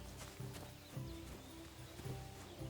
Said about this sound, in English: Who's this? It's not my horse. That's a horse.